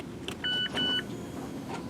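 Inside a 2017 Mazda 3, the start button is pressed twice. Two short electronic chimes sound in quick succession over a low, quiet cabin hum.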